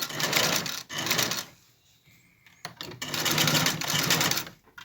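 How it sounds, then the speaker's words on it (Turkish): A Singer household sewing machine stitching a garment collar: close, fast mechanical whirring runs with rapid needle clatter, broken by a short quiet pause before stitching resumes. "Dikkatli bir şekilde diktim."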